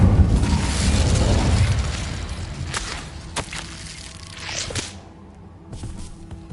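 An Incendio fire spell cast in a wizard video game bursts with a loud whooshing blast at the start, followed by scattered fainter pops and crackles as it dies away.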